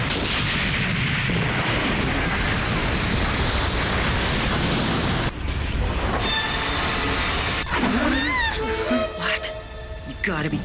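Missiles launching and detonating in a Gundam Seed anime battle: a dense, roaring barrage of blasts and rumble that later gives way to whooshing, whistling streaks and metallic ringing as the fire continues, loud and close throughout.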